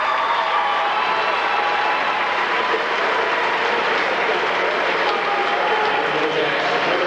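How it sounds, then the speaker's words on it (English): Dense, steady crowd applause and cheering fill a college gym at a Patten University vs. Humboldt State men's basketball game as a player is subbed out, loud and unbroken for the whole stretch. "they're going to sub out for Isaac Gilday, who will no doubt get a nice round of applause"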